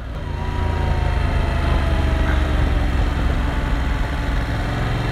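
A 2020 Yamaha Tracer 700 road-touring motorcycle pulls away on a dirt track, its engine giving a steady, close, continuous drone with no talk over it.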